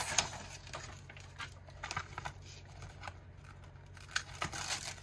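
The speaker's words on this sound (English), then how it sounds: "now I'm gonna peel away the other side" Backing being peeled off a Dura-Bright adhesive sheet, faint crackly tearing and crinkling sounds in short irregular bursts, close and quiet with no talking.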